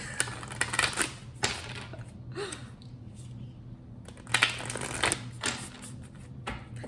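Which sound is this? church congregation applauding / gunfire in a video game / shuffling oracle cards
shuffling oracle cards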